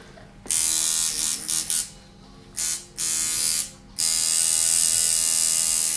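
Tattoo machine buzzing right beside the ear in a tattoo shop, a loud high-pitched electric whine that starts and stops in several short bursts before running steadily.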